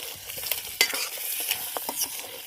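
Crabs being stirred into a boiling masala in a pot cooked outdoors by a river, with steady scraping stirs and a bubbling sizzle, one sharper clatter near the start, close and fairly quiet, no voices.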